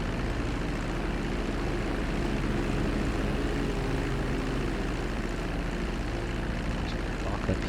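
A plane in GTA V during an airline pilot job: a steady, loud engine drone with a deep rumble that holds constant throughout, with no voices.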